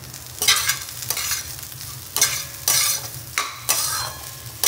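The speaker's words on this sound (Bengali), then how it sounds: "মাছটা ভাজা ভাজা হয়ে গেছে।" Fish fries in a pan while a utensil scrapes and stirs it, producing a steady sizzle broken by several sharp, loud scraping strokes at uneven intervals. No one speaks.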